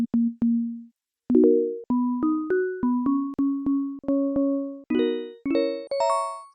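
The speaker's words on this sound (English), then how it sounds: "Now we have this bell sound." Synthesized bell tones built in the Serum synth plugin, a sequence of about a dozen clear, struck-sounding bell notes with rising pitches and short decays, loud and close, with no talking.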